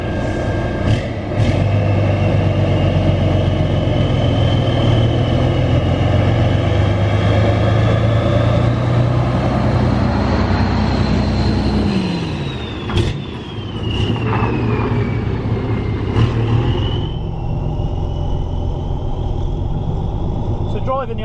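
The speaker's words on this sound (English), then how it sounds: "I love the sound of this truck." A 26-year-old Volvo F16 H7 truck with a loud exhaust rumbles steadily up close, its deep idle holding throughout while higher whining tones slide up and down over it.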